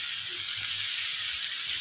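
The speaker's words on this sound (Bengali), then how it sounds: "শাক আর করলা ভাজি করছি" Greens and bitter gourd frying in a pan, a soft continuous hiss of oil sizzling, close and quiet, with no talking.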